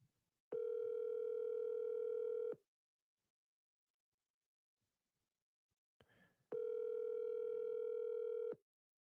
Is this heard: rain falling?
no